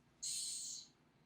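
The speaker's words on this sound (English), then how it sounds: "They can expel air really fast out of their spiracles on their sides and make a tss sound." A Madagascar hissing cockroach gives a single sharp, breathy hiss lasting about half a second, high-pitched and close, followed by quiet.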